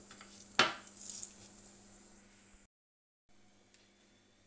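Rice poured into a pot of boiling salted water on a kitchen stove: a sharp clatter against the pot, then a short rushing patter that fades under a steady low hum, close by, before a brief cut.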